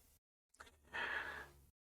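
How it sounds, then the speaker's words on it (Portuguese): A dog asleep in a recording studio lets out a single snore: a breathy, rasping inhale-exhale lasting about a second, quiet and close, with silence on either side. "o cachorro que tá no estúdio começou a roncar"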